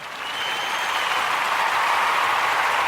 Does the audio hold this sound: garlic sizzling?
no